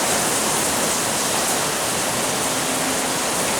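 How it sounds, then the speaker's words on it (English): Heavy rain falls outside an open garage door, a loud, dense, continuous roar of steady noise without a break, and no speech over it. "I know a lot of you like to hear that rain."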